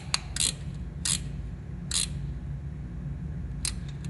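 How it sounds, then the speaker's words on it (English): A ratchet tightens the bolt on the intake support rod of a Porsche 996 Carrera, heard as several short, close clicking bursts spaced irregularly over a low steady hum. "we're going to tighten this bolt in the back where our support rod matches up with the tube"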